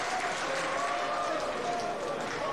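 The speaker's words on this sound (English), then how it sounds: "He's getting a round of applause from the Gateshead fans on the far side." Gateshead supporters on the far side of the ground at a football match against Chesterfield give a round of applause, a distant, steady wash of clapping and crowd noise with a commentator's voice faintly underneath.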